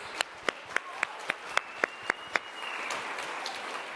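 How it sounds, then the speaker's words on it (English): Audience applause for women founders who pitched on stage at a tech industry event, starting as about nine separate sharp claps at a steady pace, then spreading into a soft, continuous wash of clapping from a crowd. "can we give another round of applause"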